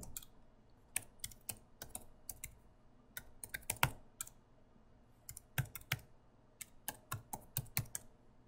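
Someone types a device name on a computer keyboard while setting up a Hikvision DS-1105KI, giving close, crisp irregular keystrokes in short bursts separated by brief pauses, with no talking.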